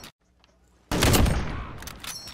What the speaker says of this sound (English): Ow, you shot me.